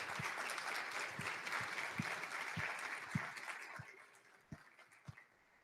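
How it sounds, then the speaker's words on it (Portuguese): Audience applause for a visiting professor from Maracanaú at an opening class for a renewable-energy electrician course: a dense, steady wash of clapping that gradually thins out, with a few louder individual claps standing out near the end. "um pedido de aplauso para o professor aqui de Maracanaú"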